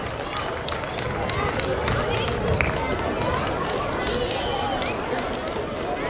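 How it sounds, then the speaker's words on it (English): Audience applause at a kindergarten graduation day at St. Pius X High School, Ramnagar: dense, steady clapping from many hands that fills the whole stretch, with a faint murmur of crowd voices beneath. "They deserve a big round of applause."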